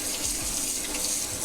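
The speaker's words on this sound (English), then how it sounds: "I'm just going to rinse off these seeds with some cool water to try to get all the juice from the fruit off" Cool tap water runs steadily over melon seeds held in a mesh strainer, a continuous close hissing splash with no talking.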